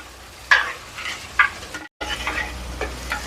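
Small shallots, garlic and ginger sauté in a pan, a quiet steady sizzle with a few sharp utensil stirs and clinks, briefly cut off in the middle.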